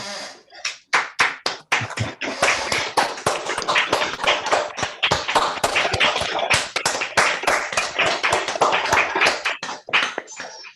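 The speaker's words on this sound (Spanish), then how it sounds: "propongo que le demos un aplauso a Enrique Ramírez" Audience applause for Enrique Ramírez at an academic gathering, a dense burst of many hands clapping, sharp and close, sustained for about ten seconds before tapering off.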